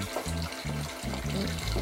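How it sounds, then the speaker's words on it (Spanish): Tap water running into a bowl in a home kitchen, a steady close splashing stream with small gurgling changes in pitch as the bowl fills, no voices. "Poner agua"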